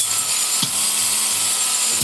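Power drill running during a vinyl fence post installation, giving a steady, loud, high-pitched whir that holds without pause for about two seconds.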